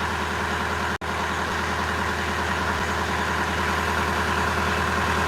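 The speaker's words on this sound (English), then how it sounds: "Another boat headed out there." A boat engine on Alaskan commercial salmon fishing waters gives a steady, even, low throbbing drone, close and continuous, with one brief dropout and no voices.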